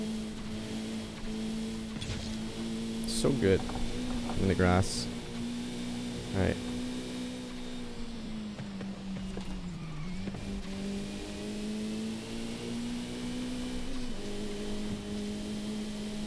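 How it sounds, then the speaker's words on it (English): Mitsubishi EVO III rally car in the Forza racing game, a steady engine drone with turbo whine heard from hood cam, pitch dipping and recovering as it drives, with brief spoken comments over it. "Do you hear that turbo?"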